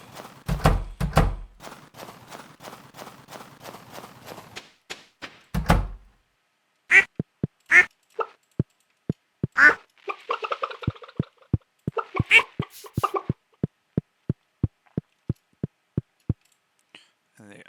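Farm ducks quack in the Stardew Valley video game during winter, a few bursts of nasal quacking mixed with rhythmic clicking footstep thunks and small plops from the game.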